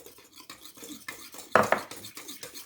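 A spoon mixes powdered milk into yogurt in a bowl, making soft, irregular scraping and clinking strokes, with one louder cluster of knocks near the middle, close by and without talking.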